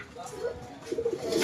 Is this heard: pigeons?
yes